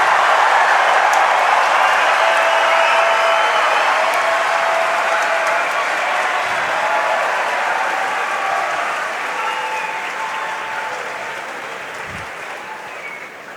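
A large crowd at a Rubik's cube world championship final applauds and cheers in a dense, loud wall of clapping that slowly fades over its length.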